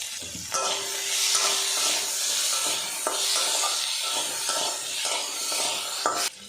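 Potatoes with onion sizzle in a frying pan, a steady hiss broken by faint clicks as the pieces are stirred and turned.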